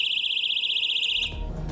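A Birdie personal safety alarm gives a loud, piercing, warbling electronic tone close by, held for over a second before it cuts off.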